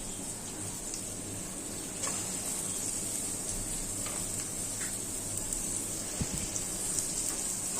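Onions frying in mustard oil in a pan as beef with chui jhal cooks, a faint, steady crackling sizzle with an occasional light clink, no one talking.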